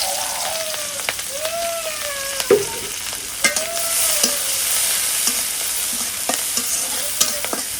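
Whole cumin, green chilies and onion frying in hot oil for a big silver carp fish curry, giving a steady crackling sizzle with a few sharper pops and stirring scrapes, close and alone without talk.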